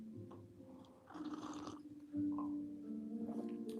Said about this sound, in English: Dog's chewing a bone over there.